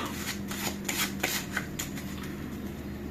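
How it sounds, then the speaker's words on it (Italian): Playing cards handled in a false shuffle, dealt one at a time to reverse their order, with a rhythmic run of soft snapping and rubbing card sounds close up and no voices. "Diciamo di mescolare le carte, ma in realtà noi le invertiamo nell'ordine"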